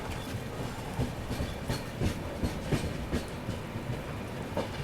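Mangla Lakshadweep Express passenger train rolling past the Bhusawal goods yard, a steady rumble with repeated clickety-clack wheel beats over rail joints, continuous and fairly close throughout.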